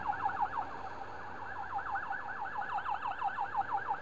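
Police car siren wailing in a fast, continuous rising-and-falling warble, moderately close and steady, over low traffic rumble with no talking.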